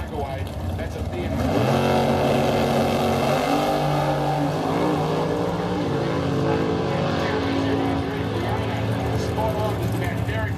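Dragsters launching and accelerating down the strip at a spring nationals drag race at The Bend, a loud rising engine roar fading into the distance while a commentator talks over it.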